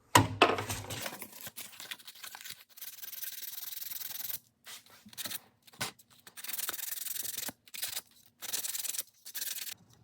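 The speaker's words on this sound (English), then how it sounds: "I'm just gonna clean the rest of these edges up just with a little piece of sandpaper" A small piece of sandpaper rubs along the cut edges of a chopped gun magazine, giving close, faint scratchy strokes in irregular bursts separated by short pauses, with no talk.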